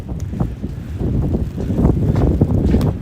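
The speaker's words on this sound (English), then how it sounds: "Oh, it's windy." Strong wind during a snowstorm in New York City buffets a microphone while walking, a rough continuous rumble that grows slightly louder over a few seconds, with no talking.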